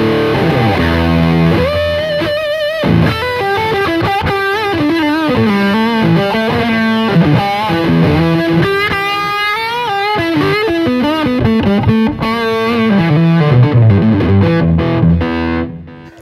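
Heavily distorted electric guitar run through a Line 6 Helix distortion effect in front of an already overdriven amp, playing dense sustained chords and melodic lines loudly and continuously with no talking.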